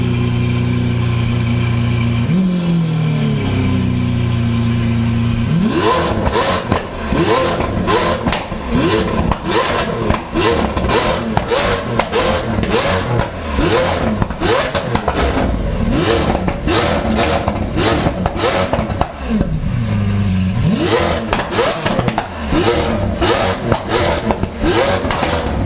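Lamborghini Aventador with a loud aftermarket exhaust: an engine note that rises and falls, then breaks into a long run of sharp, aggressive revving with crackles. It stays loud and close throughout, with no voices.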